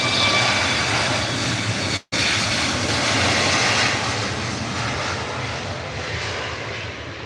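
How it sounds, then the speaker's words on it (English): A Ryanair passenger jet takes off from Manchester Airport, bound for Faro, with a loud, steady broadband engine roar that fills the whole clip, cut by one brief dropout early on and tapering slightly towards the end. "And this Ryanair's off to Faro."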